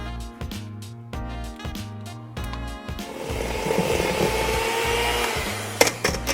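An electric mixer beats butter and sugar for Persian saffron raisin cookies, starting as a pulsing, stuttering hum and settling into a steady, louder whir.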